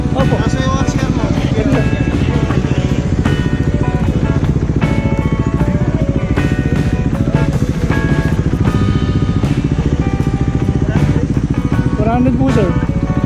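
A 400cc motorcycle engine runs close and loud, a continuous dense buzzing drone with shifting revs for the whole stretch, while people talk over it.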